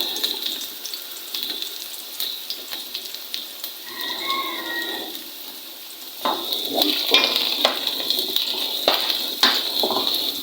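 Onion and then garlic hit a hot pan for adobong sitaw, giving a soft hiss that swells into louder crackling sizzle bursts partway through, close and without talk.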